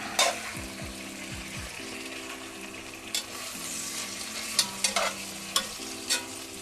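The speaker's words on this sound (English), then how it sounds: "once that's gotten a little bit crisp on one side, I'm gonna flip it over." Chicken pieces fry and crisp in a pan as the start of a slow-cooked ragù, giving a low continuous sizzle broken by occasional clicks and taps, with a faint steady tonal hum underneath.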